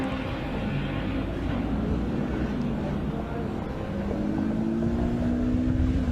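Race cars at Mallory Park, a Peugeot 106 and a Renault Clio RS 172, drone with engine noise from a distance, a steady rumble with rising revs as they accelerate, with no talk over it.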